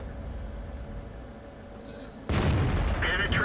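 A World of Tanks tank cannon fires into an enemy turret as a single sudden heavy boom with a crackling impact, cutting in after a quiet stretch of low engine hum.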